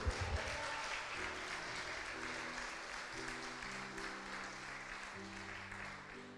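A church congregation applauding for the Lord during a Portuguese-language service, sustained clapping with organ or keyboard chords underneath and a voice speaking over it, fairly quiet overall.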